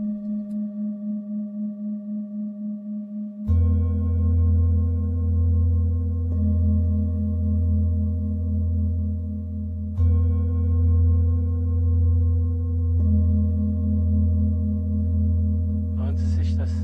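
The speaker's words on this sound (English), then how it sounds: "Listen to the harmony of the singing bowls." Two sustained metallic bowl tones ring together, a low hum layered with a steady higher pitch, pulsing gently as they beat against each other; no talking.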